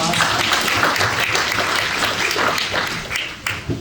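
An audience at a Dragon's Den-style discussion panel bursts into dense, sustained applause, loud and close, with whoops and voices mixed in, thinning out in the last second.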